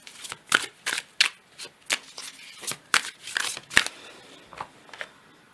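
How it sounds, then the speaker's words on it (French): A Hermetic tarot deck is shuffled by hand, giving repeated riffling bursts and card flicks in an irregular rhythm, close up and alone without speech. "je vais prendre le tarot hermétique pour compléter ce tirage"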